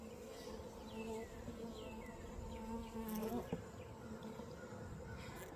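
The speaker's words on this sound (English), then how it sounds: "There's a lot of bees here." Honeybees swarm and drone around a backyard beehive, a close, steady buzzing with individual insects zipping past, sometimes louder as they fly near, with no talking.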